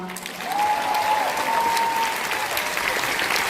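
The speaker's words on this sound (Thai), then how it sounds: "ขอเสียงปรบมือดังๆ ให้กับพี่น้องทหารทุกหมู่เหล่า" Concert audience applauding Thai soldiers, a steady dense clapping from a large crowd that swells early and holds loud through the clip, with a faint tonal whistle or voice drifting above it.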